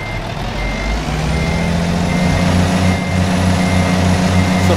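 A truck in American Truck Simulator backs up to a trailer, its reversing alarm beeping in a steady, loud rhythm over the low rumble of the idling diesel engine.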